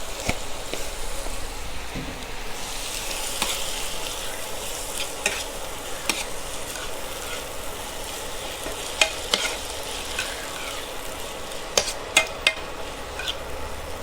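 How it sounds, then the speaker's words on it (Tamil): Onions and tomatoes fry in a pan with a steady, quiet sizzle while a spoon stirs and scrapes, knocking now and then against the pan. "ஸோ வெங்காயமும் தக்காளியும் கொஞ்சம் நல்லா வெந்துடும்."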